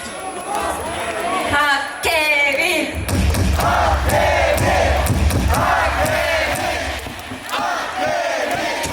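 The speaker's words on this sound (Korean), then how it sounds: "박혜민 이름 세 번만 외쳐주세요" A baseball crowd at a Hanwha Eagles game chants a player's name three times in loud, rhythmic unison after an amplified voice calls it out.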